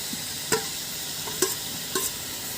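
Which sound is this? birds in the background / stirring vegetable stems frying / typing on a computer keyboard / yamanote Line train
stirring vegetable stems frying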